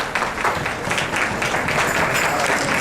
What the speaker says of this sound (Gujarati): બધાએ પોતપોતાના સ્થાને ઉભા થાય, અભિવાદન કરશે તાળીના નાદથી